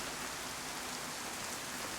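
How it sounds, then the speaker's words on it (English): Steady rain falls in a video game, a dense, even hiss of raindrops on surfaces, moderately loud and continuous with no voices. "I'll just put the rain on again."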